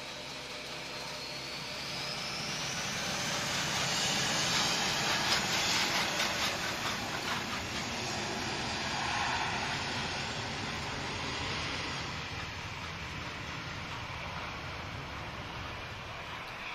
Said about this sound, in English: Air Canada is taxiing.